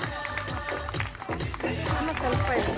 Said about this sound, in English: A big round of applause for all our tiny tots over here.